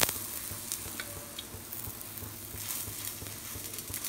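Soft, steady sizzling of a chapati frying with oil on a hot pan, a faint crackling frying sound with small pops throughout and no talking.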